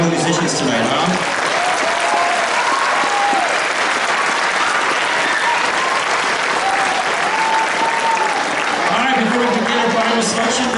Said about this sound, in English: how about another round of applause for our young musicians tonight, huh?